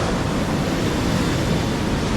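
Loud, steady rushing of water roaring beside a thick pipe that houses a motor, a constant broadband wash with no pauses, no talking.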